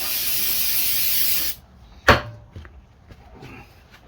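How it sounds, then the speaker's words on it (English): Starting fluid hisses from an aerosol can onto a Homelite chainsaw in one loud, steady spray burst that stops abruptly. A sharp clack and a few faint handling knocks follow. "Just a little starting fluid."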